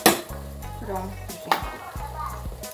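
Chuleta with onion and ground bell pepper frying in a pan, a faint sizzle under several tonal scrapes and clinks of a utensil stirring against the pan.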